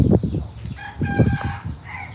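Chickens cluck and a rooster gives a short crow nearby, a quick burst of farmyard calls.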